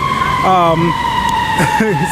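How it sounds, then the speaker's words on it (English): A steady electronic emergency vehicle siren tone holds throughout on a Chicago street, close and loud, while a person talks briefly over it. "you get all this noise like sirens and things like that"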